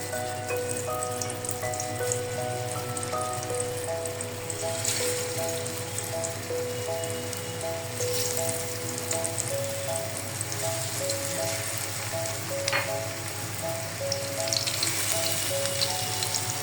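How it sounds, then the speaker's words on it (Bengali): Raw banana fritters shallow fry in about half a cup of oil, making a continuous soft, rain-like sizzle at moderate volume for the whole stretch, with music in the background. "আমরা এটা কিন্তু খুব বেশি তেলে ভাজবো না, এটা কিন্তু শ্যালো ফ্রাই হবে।"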